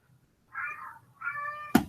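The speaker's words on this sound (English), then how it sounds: "I'm sorry about my cat, guys." A house cat meows twice close by, two drawn-out tonal cries about half a second each, followed by a brief sharp knock, with no talking.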